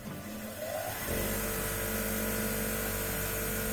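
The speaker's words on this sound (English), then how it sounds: "We'll fire up our grinder and" A grinder spins up to speed and runs steadily, close and loud, as it cleans off the ends of metal fire extinguisher mounting parts, with no talking over it.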